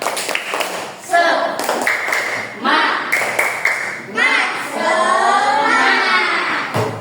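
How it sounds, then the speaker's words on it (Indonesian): A school class does a rhythmic spirit clap in patterned bursts of hand claps, loud and close, with a teacher's voice speaking between and over the claps. "Coba tepuk semangatnya dulu ya."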